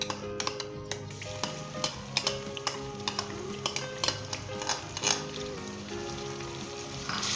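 Ginger and garlic frying in hot ghee for a Rajasthani laal maas mutton curry, a steady close sizzle broken by frequent sharp clicks and scrapes of stirring, with no voices.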